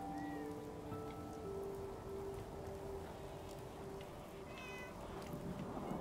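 Cat meowing inside the video game Fallout 4, a few short mews over a steady backdrop of rain-like ambient noise and faint game tones.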